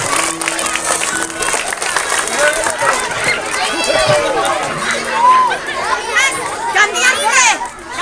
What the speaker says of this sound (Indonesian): oke, kasih tepuk tangannya sekali lagi.